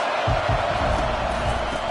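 A stadium crowd at a football game roars in a dense, steady wall of noise that never lets up, loud and distant all at once.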